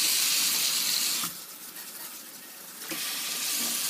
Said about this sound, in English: We're going to rinse this off.